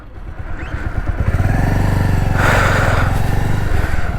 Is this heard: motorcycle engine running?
yes